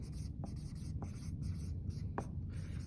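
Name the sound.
writing on a board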